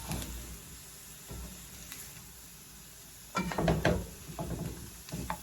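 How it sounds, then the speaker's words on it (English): Seafood, shrimp among it, sears in a hot pan for a pot pie, giving a soft steady sizzle with brief louder bursts of stirring and scraping toward the end, no talking. "Once you sear the skin, it's open to receive some seasoning."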